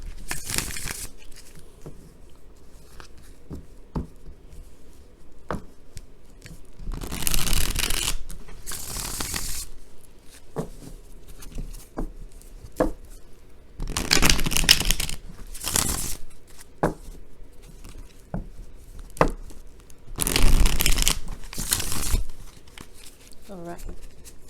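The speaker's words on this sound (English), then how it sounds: "I'm going to just be shuffling here." Tarot cards are shuffled in repeated bursts of quick riffling and rubbing, separated by quiet pauses and occasional soft taps.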